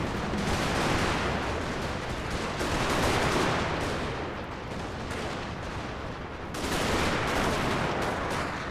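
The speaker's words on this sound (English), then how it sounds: "Still plenty of volley fire going on right now" Musket volleys crackle without pause across a forest battlefield in the American Civil War Total War multiplayer battle, dense overlapping gunfire that swells and eases in waves, with no voices.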